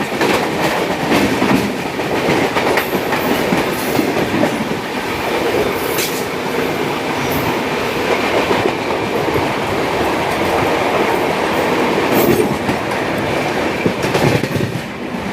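The Pinakini Superfast Express passes close by, a loud, sustained rumble of railway cars with rhythmic wheel clatter and occasional squeals, steady for the whole stretch with no voices.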